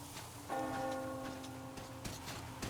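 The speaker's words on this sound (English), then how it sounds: "Do you hear that bell?" A church bell tolls in the post-apocalyptic Metro Exodus game world, a single resonant ring with a sustained humming decay over faint ambient rustle, heard from a distance without speech.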